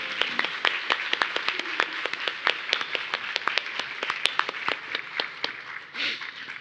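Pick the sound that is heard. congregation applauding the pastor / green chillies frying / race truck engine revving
congregation applauding the pastor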